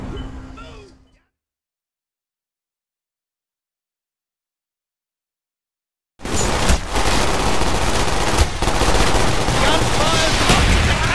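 After a short stretch of silence, dense, continuous rapid gunfire in the video game Call of Duty: Black Ops, Numbers mission, erupts and keeps going at full loudness, with a few sharper individual shots.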